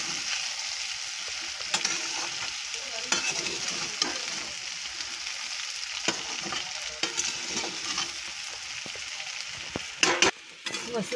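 Sabudana mixture being stirred in a hot pan, a continuous soft sizzle with repeated scraping strokes and occasional sharper clicks of the spoon against the pan.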